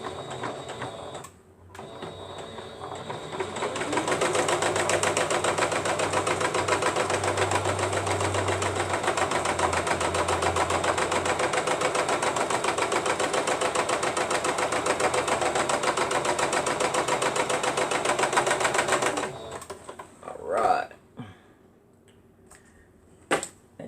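A domestic sewing machine back stitching fabric for a star block bag, running steadily at close range for about eighteen seconds with a dense mechanical whir, then stopping and leaving a few soft handling clicks.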